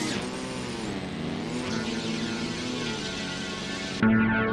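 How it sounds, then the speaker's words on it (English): A steady synthetic quadcopter engine drone from a flight simulator game hums at constant pitch, ending with a sudden shift to a brighter whine. "We got to work on these engine quad noises in real flight."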